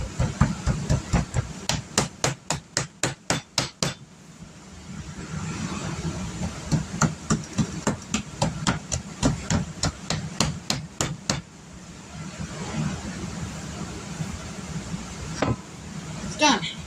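Pork steak being pounded with a meat tenderizer, a fast run of sharp, evenly spaced thuds in repeated bursts with short pauses between them, close and loud, with a voice speaking now and then.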